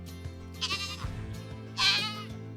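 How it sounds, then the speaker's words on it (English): Goats bleat in two loud, wavering cries from nearby, one early and one near the end, over a steady low rumble in a wooded outdoor setting. "Come on, goats! Come on! Come on, goats! Come on!"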